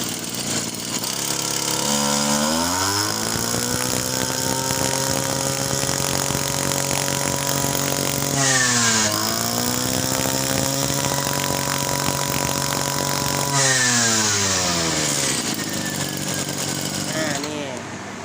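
A small Kawasaki D2K two-stroke brush cutter engine runs loud and close, revving up and down several times with a buzzing, high-pitched whine.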